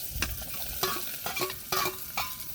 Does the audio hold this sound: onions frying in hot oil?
yes